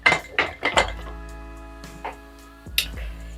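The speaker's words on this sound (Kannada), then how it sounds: "ಈಗ ಕುಕ್ಕರ್ ಮುಚ್ಚಳ ಹಾಕಿ" A metal pressure cooker lid is set in place with a few sharp clinks and clanks, each leaving a short metallic ring, the knocks spaced unevenly and close by.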